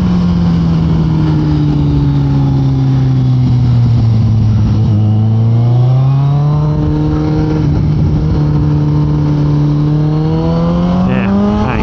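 A Honda Grom motorcycle engine drones loudly and close throughout a ride, its pitch sweeping down and back up as the throttle eases and opens again, with no talking.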